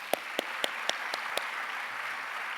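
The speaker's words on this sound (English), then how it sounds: "let's give everybody a round of applause" Six or seven sharp hand claps ring out at a school-district management team meeting, rhythmic and fairly close, then fade into a quiet hum of room noise.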